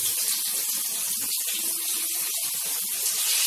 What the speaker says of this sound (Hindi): इस तरह से थोड़ा थोड़ा डाल के मैं इसमें फ्राई कर रही हूँ